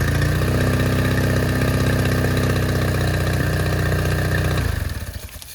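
Small engine running on a cheap $55 Amazon replacement carburetor, idling steadily and loudly up close with an even throbbing hum, then shutting off and winding down near the end.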